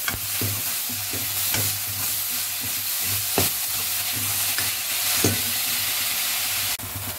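Onion and tomato sauté in a pan for a multipurpose gravy, giving a steady close sizzle with a few sharp scrapes of the spoon stirring through at irregular intervals, and no voices.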